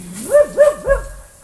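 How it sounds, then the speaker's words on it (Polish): A dog barks outdoors in snowy winter weather, three quick rising-and-falling yelps in a row, close and fairly loud, with no talking. "Piesek."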